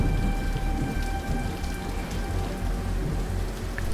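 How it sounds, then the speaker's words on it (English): Heavy rain pours steadily onto surfaces while low thunder rumbles underneath, a constant loud wash with no voices. "Can you see the rain?"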